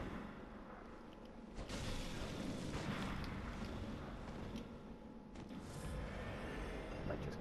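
Heavy cannon blasts from the video game Bloodborne boom through a dense, continuous wash of game noise, with several loud sharp hits standing out over a constant roar.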